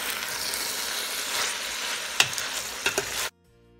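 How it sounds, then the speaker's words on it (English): Steamed cabbage with salt fish hisses and sizzles in a pot, Jamaican style, as a spoon stirs it with a few sharp knocks against the side. The steady close frying sound cuts off abruptly near the end. "Going to give this a stir."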